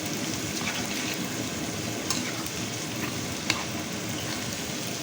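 Rice for chickpea biryani frying in a pan with partly cooked spices and onions, giving a steady, even sizzle throughout with a couple of faint clinks, and no voices.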